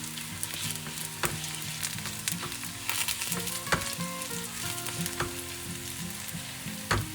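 Onions sizzle steadily in a pan while being browned for a Bhutanese dried fish dish, with crackling frying noise and scattered sharp stirring clicks throughout, close and fairly loud with no talking.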